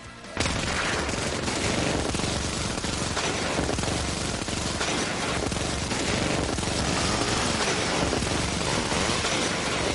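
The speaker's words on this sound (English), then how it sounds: "Activate Gatling Cannon." Relentless, dense rapid-fire Gatling cannon fire in a video game roars without pause for the whole stretch, a loud, continuous mechanical barrage of shots.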